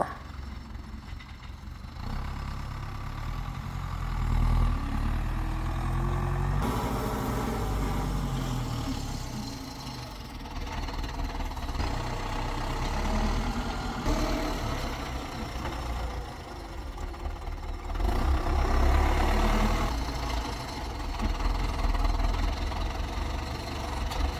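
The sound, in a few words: tractor engine running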